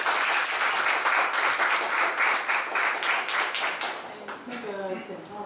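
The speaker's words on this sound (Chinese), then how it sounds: "来，我们用掌声欢迎我们柯少根律师。" An audience claps in a sustained burst of applause to welcome a lawyer at a public talk, dense and fairly close, fading toward the end as a voice begins speaking.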